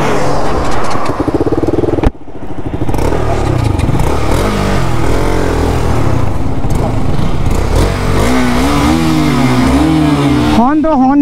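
A KTM motorcycle engine, from a comparison of the 2022 RC200 and Duke 200 BS6, drones loud and steady while riding in hot sun, with rising revs near the end and a brief dip partway through.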